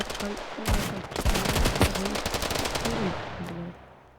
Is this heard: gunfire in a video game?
yes